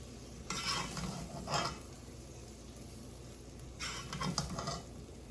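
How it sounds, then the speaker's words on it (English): Cooked Puerto Rican-style white rice being broken up and fluffed in a pot, two short bursts of scraping and stirring, then a pause and a longer bout of scraping, fairly quiet over a steady background hiss. "I'm going to take that rice and I'm going to break it up."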